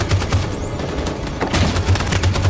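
Rapid covering gunfire from the video game Detroit: Become Human, a dense stream of repeated shots with low thumps, steady and loud across the whole stretch with no talk.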